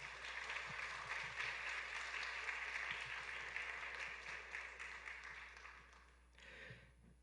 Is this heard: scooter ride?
no